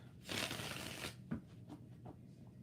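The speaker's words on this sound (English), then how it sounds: "All right, last shuffle." Tarot cards are shuffled close up in a brief riffling burst, followed by a few soft card taps, all quiet.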